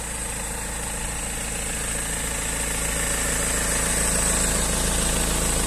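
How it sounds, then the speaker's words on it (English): A blue BMW 320D estate with a 2.0 diesel engine and automatic gearbox idling steadily, a continuous close rattling hum with a faint high whine, even and unbroken throughout with no talking. "Engine sound very nice and smooth, recently serviced."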